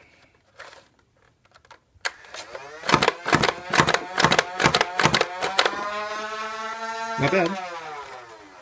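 A World Tech Warrior Renegade toy foam-dart blaster's flywheel motor revs in a run of quick bursts, then holds a steady, rising whine close to the mic, with a brief spoken remark.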